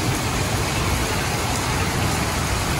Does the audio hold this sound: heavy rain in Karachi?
yes